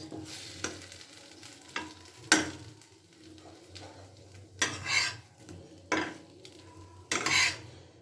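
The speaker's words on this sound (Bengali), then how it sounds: "আর একটু এটাকে লালচে করে ভেজে নিচ্ছি এপাশ ওপাশ" Filled patishapta pitha fries in an oiled pan, a soft continuous sizzle broken by several sharp scrapes and clinks of a utensil against the pan as the crepe is turned and pressed.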